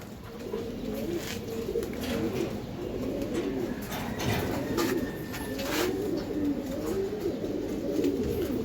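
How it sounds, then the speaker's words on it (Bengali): Giribaz pigeons coo steadily and close by, their soft, throaty calls rising and falling over a constant low hum with no voices. "টানা গলা কবুতর"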